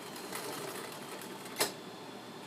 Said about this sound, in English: this machine might look a little different from your machine because this is actually a commercial sewing machine